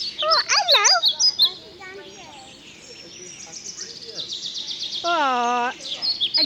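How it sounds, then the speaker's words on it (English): A parrot in a rainforest exhibit at an indoor tropical plant house calls with shrill, rapid chirps and squawks at close range, with a voice and light talk in the quiet gaps. "Do you see the parrot dancing, Tim?"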